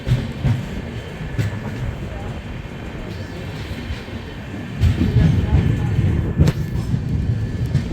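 The Mahakaushal Express pulls away from the small Atara railway station, a continuous rumbling roll of wheels and carriages with rattling clanks and a few sharp knocks, growing heavier toward the end.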